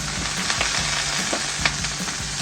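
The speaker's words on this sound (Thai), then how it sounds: "เราก็จะเอากระหล่ำปลีของเราค่ะลงไปทอดเหมือนกันค่ะ" Cabbage frying in a little oil for a homestyle Thai vegetarian braise, a steady close sizzle with soft crackle and occasional scraping stirs, no voices.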